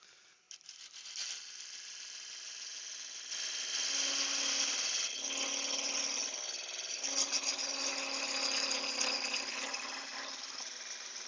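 Wood lathe parting off a small bud vase turned from a Banksia nut, a steady high whirring, scraping cut with a low hum underneath that swells louder partway through and holds near and continuous, with no talking.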